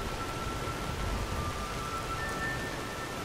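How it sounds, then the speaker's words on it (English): Steady rain hisses continuously in the video game Skyrim, a dense even wash with no clear thunder crack, and a faint high tone drifts through the background. "I want to turn the thunder and the rain down a little bit"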